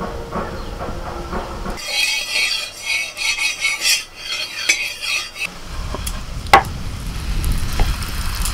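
A paratha of palak paneer dough sizzles in peanut oil on a hot tawa, a steady hiss with scraping and clinking of a metal spatula, loud and close with no talk.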